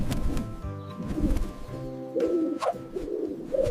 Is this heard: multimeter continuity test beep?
no